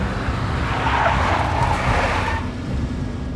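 A big black Mercedes skids in the Max Payne video game, a loud continuous rumble of engine and road noise with a broad tire screech swelling in the middle before easing off.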